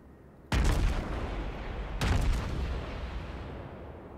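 Enemy ship's naval guns firing in World of Warships during a Prinz Eugen cruiser match: two heavy booming salvos about a second and a half apart, each a sharp loud blast trailing into a long rumbling decay.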